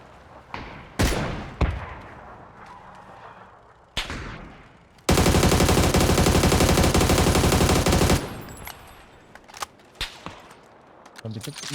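Gunfire in PUBG, with scattered single shots, then a sustained loud burst of rapid automatic fire lasting about three seconds, followed by further sporadic shots, while players talk over the action.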